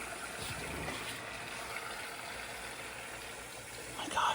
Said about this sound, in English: All right, now the pump's on.